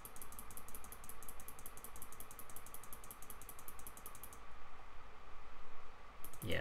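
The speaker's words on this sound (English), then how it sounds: "Enjoy this sound of me clicking." Rapid, regular clicking repeats in a quick mechanical rhythm, faint and steady with a brief pause near the end, and no voices.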